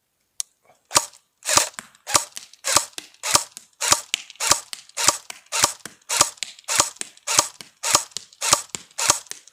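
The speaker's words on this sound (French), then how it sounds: "Je vais faire un coup de full auto avant." An AK-47 airsoft rifle fires in full-auto, rapid bursts of about a dozen sharp cracks each, repeating in a steady rhythm close to the mic with no talk.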